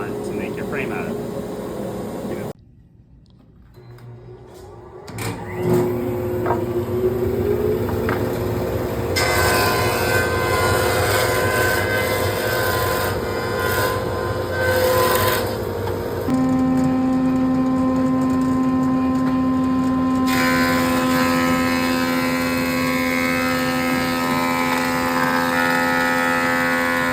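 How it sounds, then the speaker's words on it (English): A wood planer and jointer run as stock blocks are prepared for picture frame strips. A loud, steady machine roar starts after a brief quieter stretch and shifts in pitch as the machines load and change, with speech mixed in. "take your block to the planer and the jointer to control at least 3 surfaces"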